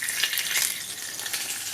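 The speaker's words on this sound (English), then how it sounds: "It is bubbling up on my hands, dissolving slowly." A dissolving sensory play material fizzes and crackles in a soft, busy hiss, close and fairly quiet, like food frying, with no voices.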